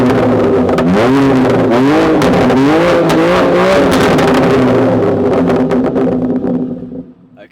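A BMW M2 Competition engine with a Remus exhaust revs hard up and down through several loud, throaty surges, then settles and fades out near the end. Close and dominant, no speech.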